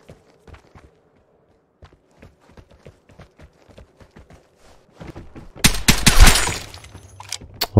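A VSS rifle shot scores a headshot in the video game Vigor. Footsteps tread quietly at first, then a loud burst of gunfire erupts near the end, with a sharp final crack.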